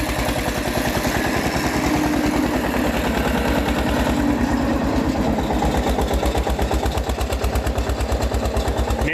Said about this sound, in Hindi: इसमें मड़ा फेरने के लिए ट्रैक्टर चल रहा है।